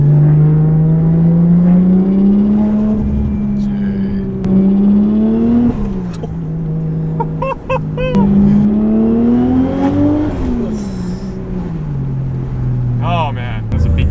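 A Toyota Chaser JZX100 is out on a test drive, its engine droning steadily and climbing in pitch with each acceleration, close and loud from inside the car, with a few chirps and clicks over it.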